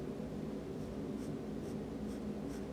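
A pencil scratches softly across paper in short, repeated strokes, shading a drawing of an eye, quiet and close, with a faint steady background hum.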